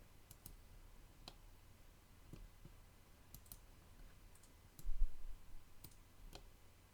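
Computer mouse buttons click while a character's eyes are modelled in Blender: sparse, sharp, faint clicks spaced irregularly over several seconds in a quiet room, with one brief low thump near the end.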